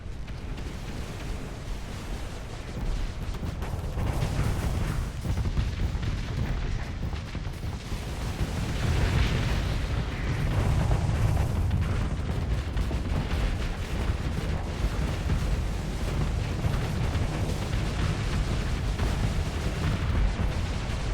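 In the video game Starsector, a space battle rumbles on continuously with weapon fire and overlapping explosions. The roar is steady and dense, with no talking.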